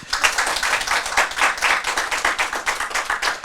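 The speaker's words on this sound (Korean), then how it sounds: "다시 박수 한번 쳐봐." A crowd at a Buddhist temple dharma talk claps in ragged, rhythmic bursts, loud and close, with individual hand claps clearly audible and no talk over them.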